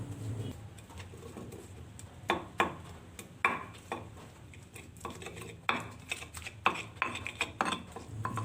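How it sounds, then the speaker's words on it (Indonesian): Garlic cloves and 120 grams of shallots are ground to a paste for beef rendang, producing irregular scraping clatter and sharp knocks, some close and loud, without speech. "Kemudian bawang ini akan saya giling dulu sampai halus."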